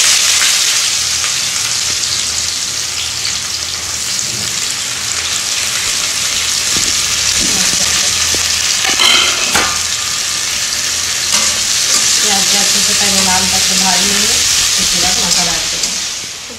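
Onions sizzling loudly in a hot kadai, a steady dense frying crackle throughout with occasional scraping strokes of a spoon stirring them.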